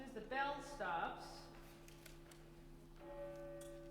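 A bell rings during a choir rehearsal, its sustained tones humming quietly and evenly for several seconds as the ringing slowly fades.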